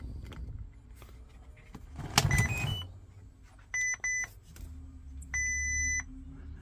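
An RC car's RadioLink CL9030 ESC powers back on and gives short electronic beep tones, a pair of quick beeps followed by a longer steady tone, over low background hum and a brief clatter of handling.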